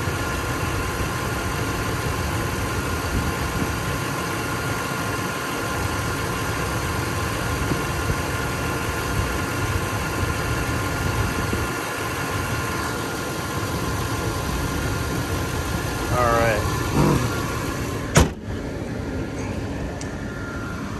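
A 2006 Range Rover Sport HSE engine idles in a steady, continuous drone at an even level throughout, with a brief rising whine and a sharp click near the end.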